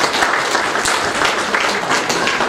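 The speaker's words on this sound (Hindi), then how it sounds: "एक बार तालियों के साथ हम अभिनंदन और" Audience applause at a Hindi book launch ceremony for a poet's works, a dense, steady wash of many hands clapping close by that fills the whole span with faint voices mixed in.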